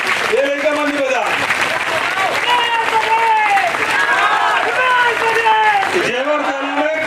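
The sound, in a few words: crowd clapping at political rally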